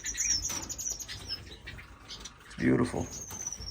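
Pet birds in a home bird room flutter and flap near the cage, with chirps and tweets mixed in and a burst of wingbeats partway through; a person speaks briefly.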